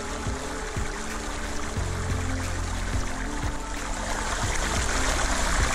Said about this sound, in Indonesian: Indahnya aliran air yang deras,